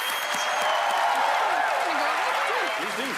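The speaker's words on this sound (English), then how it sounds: "A round of applause for Carl and for Alison, ladies and gentlemen." Audience applause for a magic act on a televised stage show, a dense steady wash of clapping with cheering and excited voices rising through it.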